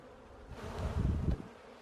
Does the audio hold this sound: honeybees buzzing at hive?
yes